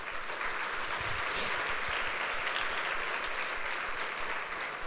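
A church congregation applauding during a Sunday service, steady broad clapping filling the room at an even level from start to finish, with no voices standing out.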